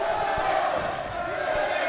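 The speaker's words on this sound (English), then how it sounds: "The strong Irish crowd singing for Lee now." An Irish crowd at a bare-knuckle fight sings as one, a loud, sustained chorus that fills the arena with dull thuds underneath.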